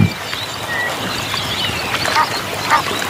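A pair of Egyptian geese foraging on aquatic plants in a stream give repeated nasal honking and quacking calls, fairly close and clear over a continuous outdoor background.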